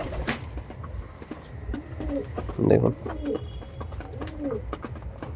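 Two-year-old pigeons give soft, repeated cooing calls nearby, with a brief louder burst partway through, while someone talks over them.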